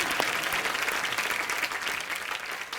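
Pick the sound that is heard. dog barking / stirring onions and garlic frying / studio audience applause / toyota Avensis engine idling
studio audience applause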